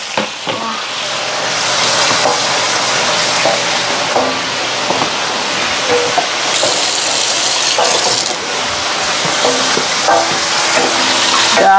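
Food frying and sizzling in a pan while it is stirred, with steady loud sizzle throughout, scraping and clinking from the utensil, and brief voices in the background.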